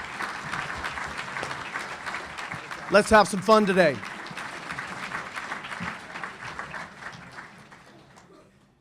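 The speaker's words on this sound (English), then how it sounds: "please give a round of applause for a great leader who is my partner and our partner" An audience applauds the Mayor of Santa Rosa at a 2018 county State of the County event, a broad, steady wash of clapping; a voice briefly speaks over it partway through before it slowly fades.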